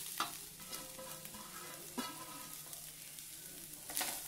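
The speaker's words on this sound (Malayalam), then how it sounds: "ഇതും അരിഞ്ഞു വെച്ചിരിക്കുന്ന കോളിഫ്ലവറും കൂടി ചേർത്തിടാം." Chopped cauliflower and grated coconut tossed into a pan for a Kerala cauliflower mezhukkupuratti, with a few spoon scrapes and soft stirring over a low sizzle, close and fairly quiet.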